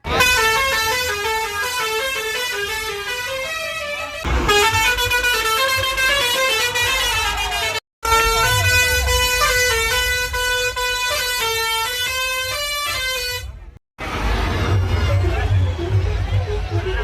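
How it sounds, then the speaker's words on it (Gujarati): Loud musical truck horns blare in long sustained melodic tones during the Rath Yatra procession in Bhavnagar, with a crowd murmuring underneath and brief breaks between the horn tunes. "ખટેરાવાળાએ પણ એકથી એક હોર્ન ગોઠવેલા છે"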